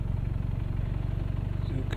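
A motorcycle engine on Portugal's Nacional 218 road runs close and steady in a low, throbbing idle-like pulse for the whole moment, with no other sound standing out.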